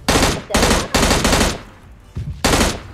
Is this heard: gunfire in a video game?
yes